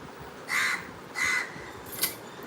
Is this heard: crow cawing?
yes